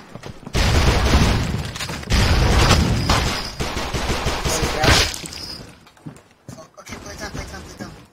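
Frag grenade explosion during a multiplayer video game match, a loud burst followed by heavy rattling gunfire that fades, with players talking over it.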